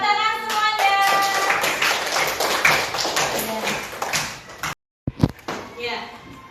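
A class of students breaks into applause, a dense burst of clapping that runs several seconds under talk, then stops abruptly before a door-like thump and a few scattered sounds.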